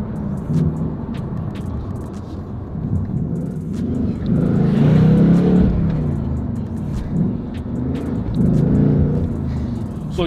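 A manual-transmission 2021 Mustang Shelby GT350R engine idles with a deep close rumble, then swells in two loud revs before settling back.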